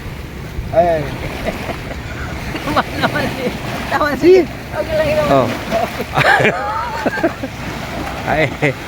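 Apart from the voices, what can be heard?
sea waves at rising tide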